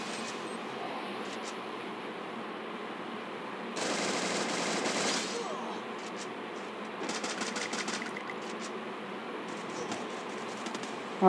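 Bursts of rapid automatic gunfire in a shooter video game, a sustained volley followed by several shorter rattling bursts over steady background game noise.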